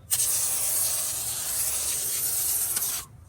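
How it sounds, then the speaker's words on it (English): McKee's 37 wheel and tire cleaner foam sprays onto a tire in one steady, continuous hissing burst lasting about three seconds, close and fairly loud, then cuts off abruptly. "If you just have the IK, you just spray it on"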